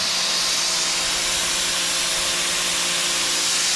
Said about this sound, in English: we hit it with the pressure cleaner